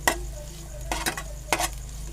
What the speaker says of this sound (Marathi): कांदा चांगला परतून घेऊ आपण